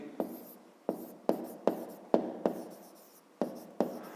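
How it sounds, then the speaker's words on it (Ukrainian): A fifth-grade math exercise written by hand, a series of sharp pen or chalk strokes close by, each a short scratch followed by a brief pause, fairly quiet and without talking. "Ну і тоді давайте запишемо."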